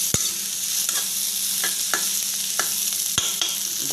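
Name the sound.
Maggi noodles frying in a pan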